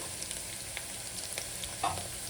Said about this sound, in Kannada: ಈರುಳ್ಳಿ ಚೆನ್ನಾಗಿ ಫ್ರೈ ಆಗೈತಿ ಫ್ರೈ ಮಾಡಿಕೊಂಡು